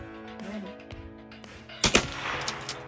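A single sharp gunshot cracks at an outdoor shooting range, sudden and loud near the end after a quieter stretch of low background sound.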